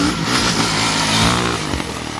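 A motocross motorcycle engine revs hard as the bike lands from a jump, a loud, close, buzzing roar with throttle surges and a brief dip before picking back up.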